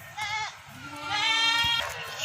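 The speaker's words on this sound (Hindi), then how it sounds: "ये खस्सी है, वो भी खस्सी बकरा है।" Castrated billy goats in a pair, a piebald (ablak) breed, bleat twice in loud, wavering calls, the second longer and sustained, over steady background noise on a farm.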